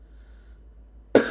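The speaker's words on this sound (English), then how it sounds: "I cough like a bitch" A man's single loud, harsh cough bursts out near the end, close and abrupt, after a stretch of quiet room noise.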